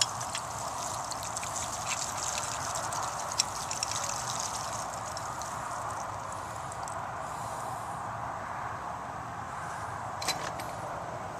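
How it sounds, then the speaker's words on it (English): Water trickling steadily from a cut copper main supply line into a house, a soft, continuous hiss and flow at low level, with a few faint drips and knocks and no voices. "as water is starting to come out of it"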